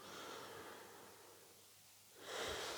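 Slow audible breathing during a Pilates exercise, a long soft exhale fading into quiet followed by a sharper, louder inhale near the end, close and faint.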